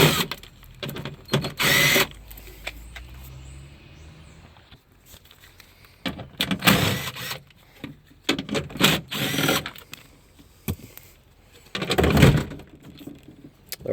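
Power tool driving out 10 mm bolts on a car door's window regulator, with repeated short bursts of drill-like whirring, alone and close.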